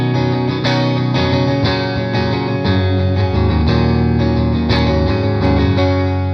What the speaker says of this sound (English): This is just the Deluxe Reverb, amp model with the Deluxe Reverb 112 cab